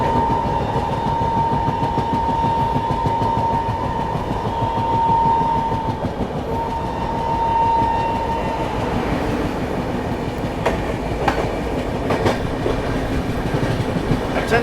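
The Bihar Sampark Kranti Express rolling along its rails, a loud continuous rumble with steady clickety-clack from the wheels heard from aboard, and sharper rattling clanks in the closing seconds.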